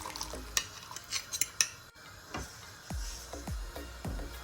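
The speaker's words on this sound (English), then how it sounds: "I left this on a low simmer for a few minutes before adding the cooked tortellini" Cooked tortellini stirred into a creamy sauce on a low simmer, with a quiet bubbling hiss and repeated close scraping and clinks of a utensil against the pan.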